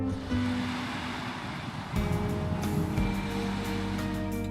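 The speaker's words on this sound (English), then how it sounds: "the sound of the water lapping on the shores of Winding Bay" Gentle water lapping on the shore of Winding Bay in the Bahamas, a steady close wash of surf with soft wind, swelling slightly louder midway and continuing without voices.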